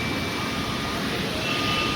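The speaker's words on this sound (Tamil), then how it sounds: "இது இவ்வளோ பக்கத்தில் பாருங்கள் ஃப்ளைட்டை." An airplane at Chennai Meenambakkam Airport produces a steady, loud engine roar with a faint high whine throughout, nearby and continuous, with a voice speaking faintly over it.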